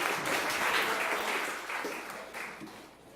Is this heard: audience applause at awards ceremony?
yes